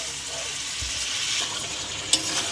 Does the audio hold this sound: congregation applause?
no